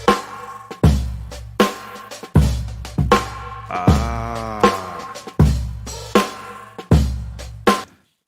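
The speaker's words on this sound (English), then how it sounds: "that little interference noise is kind of like, you know how you adjust radio frequencies when you're tuning" Radio-tuning style interference from a LoFi plugin, a wavering, sweeping crackle that rises in the middle of a repeating pattern of punchy beats. Each hit decays fast, and the loop is loud and close.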